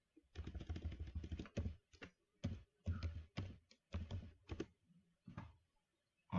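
Quiet, irregular bursts of key clicks as a computer keyboard is used to type a candidate's details into a Python program, with short pauses between runs of keystrokes.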